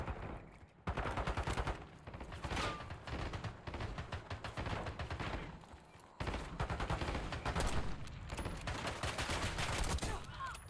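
Rapid automatic gunfire from bots in a Call of Duty match, dense bursts of shots rattling almost continuously and loudly, with brief pauses between volleys.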